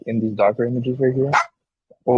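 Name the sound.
German Shepherd dog barking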